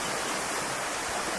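Dolgoch Falls in Mid Wales rushes as a steady, full broadband roar of falling water, close and constant with no pauses.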